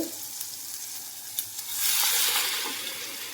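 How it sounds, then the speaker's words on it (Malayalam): Ground masala paste poured into a pan of well-fried tomatoes for a home-style Kerala egg curry, a soft sizzle swelling louder halfway through with light stirring, close and steady, no voices. "തക്കാളി നന്നായിട്ട് മൊരിഞ്ഞിട്ടുണ്ട് ഇതിലേക്ക് നമ്മൾ അരപ്പാണ് ഒഴിച്ചു കൊടുക്കുന്നത്"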